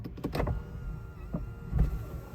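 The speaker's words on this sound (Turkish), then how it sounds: "Böyle açabilirsiniz arkadaşlar Sunroof." Electric sunroof motor on a new Honda Civic 1.5 182 HP, a soft whirring slide inside the car with faint clicks and cabin noise, brief and fairly quiet.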